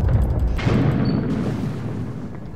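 Bombs going off in the video game The Ball: a loud, deep booming blast with a rumbling low-end tail and a brief sharper burst partway through, decaying slowly across the clip.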